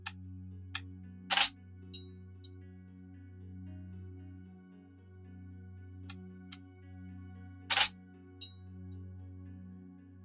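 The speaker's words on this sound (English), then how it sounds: "I'm just taking different shots while he's in place with different shutter speeds." A single-lens reflex camera fires its shutter several times over a quiet steady hum, with sharp clicks, a couple of longer open-shutter exposures, and small electronic beeps between shots while photographing a crested gecko.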